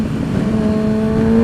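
Kawasaki ZX6R motorcycle engine accelerating hard, a loud close whine that climbs steadily in pitch for a second and a half.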